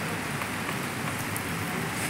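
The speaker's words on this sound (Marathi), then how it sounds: "बघा पाऊस चालू आहे" Light, steady rain falls outdoors near a road and a tree, a constant soft hiss of drops on surfaces holding at an even level throughout with no voices.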